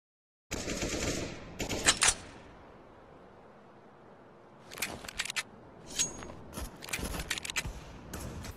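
Counter-Strike: Global Offensive gunfire: a loud automatic burst, a quiet lull, then several more sharp rapid bursts and single shots, close and crackling, with no voices.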